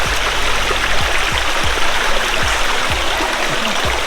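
Water of Aare Falls at Nagalapuram pours and splashes continuously on a trek, a steady, close rushing flow with no break.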